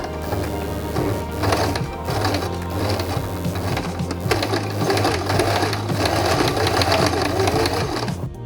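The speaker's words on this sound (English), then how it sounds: "After struggling a little and going really slow, I managed to stitch the waistband to the pants" Sewing machine running steadily and loud, stitching a waistband onto cow print pants, its rapid needle chatter and motor hum continuing without a break.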